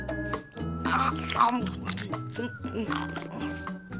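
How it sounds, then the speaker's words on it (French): Someone bites into a fried egg full of bits of eggshell in a cartoon scene. Crisp, close crunching and chewing mixes with lively voices talking over it. "ce serait nettement meilleur sans tous ces petits morceaux de coquille qui craquent sous les dents"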